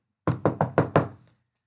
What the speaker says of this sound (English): if I knock on the door, knock, knock, knock, knock, knock